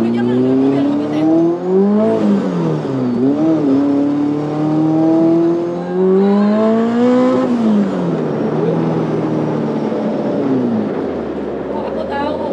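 A supercharged Caterham racing engine with a loud exhaust revs up and down from inside the moving car, its droning pitch climbing and falling through gear changes, with people talking over it.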